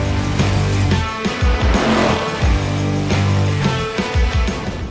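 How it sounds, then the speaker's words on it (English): A 2024 S650 Mustang named Silver Bullet 2.0 run hard on a dyno, its engine roaring loud and close with rising and falling revs and no talking. "So let's throw this on the dyno and see what kind of additional horsepower and torque we make"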